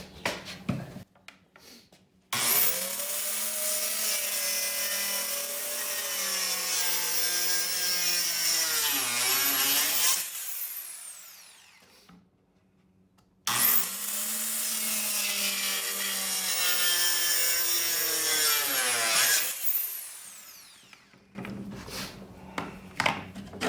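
Power saw cutting into an old antique wooden dresser in two long passes, a loud, close, grinding rasp that rises and strains as the blade works, separated by a brief pause.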